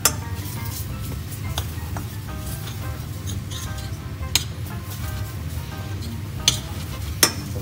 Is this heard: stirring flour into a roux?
yes